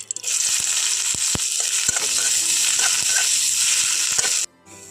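Chopped onion dropped into hot oil in a pan sizzles loudly and steadily for several seconds, with a few sharp stirring knocks and clicks, then the sizzle cuts off abruptly.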